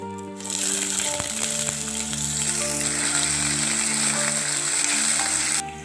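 Potatoes frying in hot oil with panch phoron, dried red chilies and bay leaf sizzle loudly and steadily, with occasional stirring clicks and a hissing bright tone throughout.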